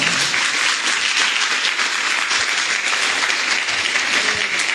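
A church congregation claps steadily and loudly, a dense wash of applause filling the space without pause.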